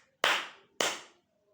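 Two sharp hand claps ring out during Shiva worship at a temple, each close and loud with a quick decay, spaced about half a second apart in otherwise quiet surroundings.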